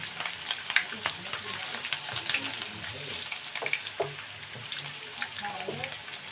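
Paneer cubes sizzle in hot oil in a pan, a steady close crackle with occasional stirring clinks and spatters.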